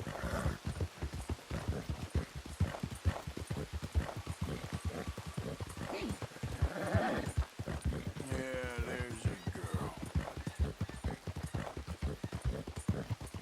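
Hooves clip-clop steadily at a trot as a Hungarian Halfbred horse is ridden in Red Dead Redemption 2, the rapid rhythmic footfalls continuous beneath a short neigh and faint background ambience.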